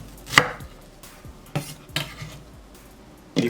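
A quarter of an onion chopped into small pieces on a cutting board, a handful of separate sharp knife knocks spaced irregularly, close and crisp in a quiet kitchen.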